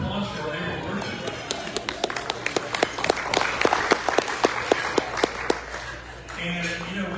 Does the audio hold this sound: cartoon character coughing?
no